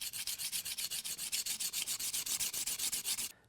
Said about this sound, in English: go back to your honing stone and it'll tell you, or it'll show you very clearly where you're taking material off